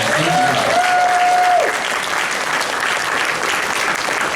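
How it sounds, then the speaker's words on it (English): A large convention audience at a furry-convention opening ceremony claps in steady, dense applause that holds loud and even throughout, with a brief whistle near the start. "give yourselves a round of applause for that"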